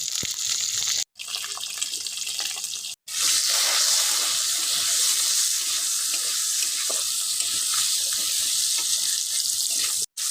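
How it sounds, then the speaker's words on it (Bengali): Potatoes sizzle and fry in leftover oil, seasoned with salt and a little turmeric, making a steady, loud hiss throughout with two brief gaps. "আলুটাকে বন্ধুরা লাল লাল করে ভেজে নিতে হবে"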